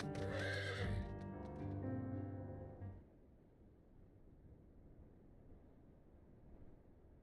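In the video game Final Fantasy XIV a horse lets out a loud, close whinny lasting about three seconds, then soft ambient noise continues alone.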